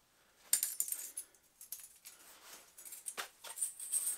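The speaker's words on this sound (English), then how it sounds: "Tip 1, folding a bandsaw blade." A bandsaw blade being folded into coils in a woodworking shop gives a run of light metallic clinks, rattles and springy taps, irregular and fairly close.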